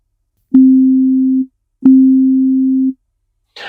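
Two sustained pure test tones about a second each, the second a microtonal 10 cents off the first, clean and steady with a brief gap between, followed by a faint noisy onset.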